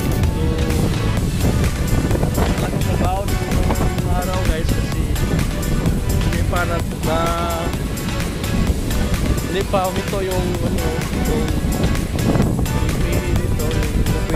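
Strong wind gusting across a seaside shore during a pressure-area storm, with waves washing in, a steady loud roar of buffeting wind noise throughout while people talk over it.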